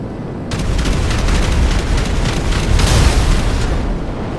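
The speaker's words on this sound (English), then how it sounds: "Let's just look at how fast the cannons can destroy an armored vehicle." Cannons on a P-996 Lazer jet in GTA 5 pound an armored Nightshark in a loud, continuous barrage of rapid booming rounds and explosions lasting several seconds.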